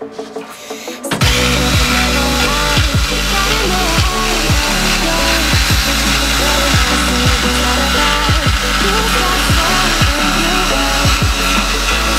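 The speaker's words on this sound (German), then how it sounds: "habe ich jetzt in die Platte ein Loch für ein Entlüftungsgitter reingesägt" A power saw cuts rapidly through a wooden tabletop board, sawing a hole for a vent grille, loud and continuous, after a brief quiet start.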